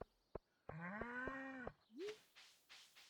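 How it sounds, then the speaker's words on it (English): A cow on a Stardew Valley farm gives one clear, drawn-out moo lasting about a second. Soft clicks come before it, and after it there are a short rising blip and light rhythmic game sounds. "And all our cows are doing great"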